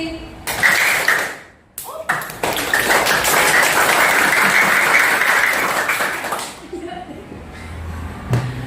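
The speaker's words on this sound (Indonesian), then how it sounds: "Tepuk tangan mau sampai besok juga nggak berhenti." Students in a classroom clapping their hands together, a dense loud burst of applause-like slapping that runs for several seconds, broken by a brief pause near the start and fading out near the end.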